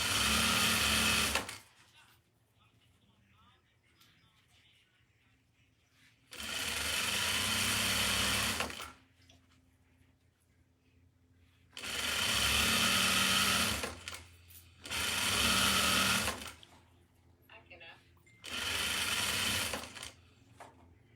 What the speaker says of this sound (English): I'm gonna just sew them all in one long chain